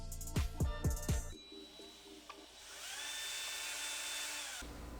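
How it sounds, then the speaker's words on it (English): A power drill spins a steel bolt, used on SSR GT3P three-piece wheels, inside steel wool dabbed with white diamond polish: a few short revving whirs, then a sustained high whine with a gritty scrubbing hiss, close and alone. "you can take your bolt and insert it into the drill"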